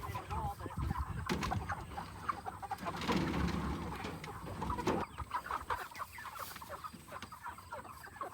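Chickens cluck and squawk while being loaded into crates for the processor on a farm, a busy crowd of birds heard up close amid rustling and bumping, with occasional voices.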